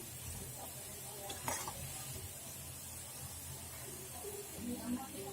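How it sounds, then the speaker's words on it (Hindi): Urad dal dahi bhalle fry in hot oil with a faint, continuous hissing sizzle, heard quietly and close, with occasional stirring clinks. "बिल्कुल इस ढंग से आप अपने सारे दही बल्ले को तल लें"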